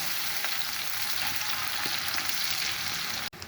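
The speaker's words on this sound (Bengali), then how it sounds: "এখন এটাকে একটু ভেজে নিচ্ছি।" Chopped onion and minced garlic frying in a pan for a prawn and taro curry, giving a steady, close hiss of sizzling oil with faint stirring scrapes, ending with a brief clatter, no talking.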